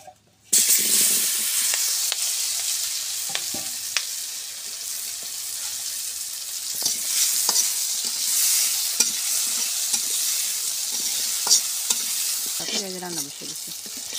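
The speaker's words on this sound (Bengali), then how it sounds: "এখন বেগুন ভাজবো।" Eggplant fries loudly in a pan, kicking in after a brief silence with a bright, constant sizzle broken by occasional scrapes and clinks as it is stirred.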